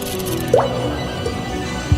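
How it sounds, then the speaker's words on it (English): A spooky dungeon blood-dripping effect plays as a few wet drips and squishy plops. They sound over a low, echoing ambient drone, with one clear drip standing out partway through. "That's a spooky dungeon blood dripping."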